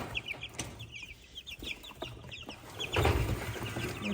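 Young meat chickens cluck and chirp in short, repeated calls at close range, with soft rustling and shuffling in the background.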